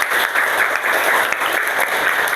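Children in a primary school classroom clap together in steady, dense applause, loud and close, running without pause and with no talk over it.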